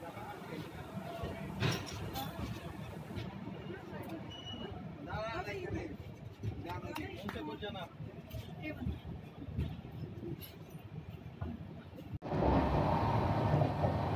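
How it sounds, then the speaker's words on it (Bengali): The Saraighat Express pulls away after departure, heard from inside an economy AC coach as a steady low rumble and rattle. People talk over it throughout, and a louder, fuller roar comes in near the end. "বলতে বলতে ট্রেন ছেড়েও দিল।"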